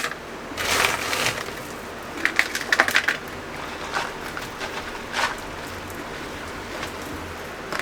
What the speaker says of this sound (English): we're going to keep layering the ice